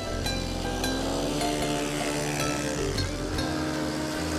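A control line model airplane's small engine drones loud and steady as it throttles back up during touch-and-go flying. The buzzing tone stays continuous with faint rhythmic pulses, and no voices are heard.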